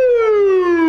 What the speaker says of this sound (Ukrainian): Вже знає, коли, яку сирену вмикають поліцейські.